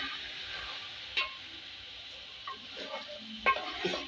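Green chickpeas being stirred into frying masala with green chilies in a pot for pulao, with soft scraping and a faint sizzle, spoon knocks against the pan.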